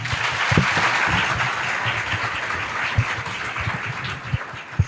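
Audience applause at a school ceremony honouring three students, one now a deputy collector, steady dense clapping filling the room with a few sharper claps standing out near the end.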